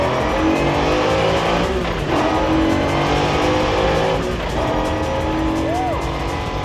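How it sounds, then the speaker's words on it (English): A loud AMG V12 engine in a street-legal race car with a sequential manual gearbox roars continuously, revving with shifting pitch sweeps and a brief tire squeal, close and powerful. "if you really want to enjoy the sounds of that AMG V12"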